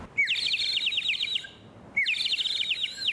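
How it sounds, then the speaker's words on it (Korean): A water-filled bird whistle toy from Hongseong near Cheonsu Bay, shaped like a migratory water bird, gives two loud, close bursts of rapid bubbling warble like an oriole, separated by a short pause. "가을에 아침에 잠을 깨워주는 그런 꾀꼬리 소리 같은 그런 느낌 있잖아요"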